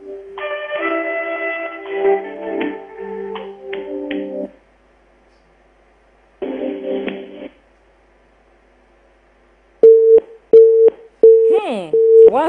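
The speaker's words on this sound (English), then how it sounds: "It's ringing." Telephone ringing tones during a call to an emergency call center: repeated short electronic beeps in regular bursts near the end, preceded by stretches of other tonal sounds and pauses.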